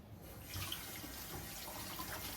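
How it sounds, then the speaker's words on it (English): Tap water running steadily into a sink while a face is washed, a soft continuous splash heard alone at low level. "if you use cold water by washing your face"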